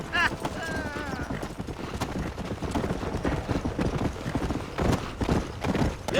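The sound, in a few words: horse galloping in Red Dead Redemption video game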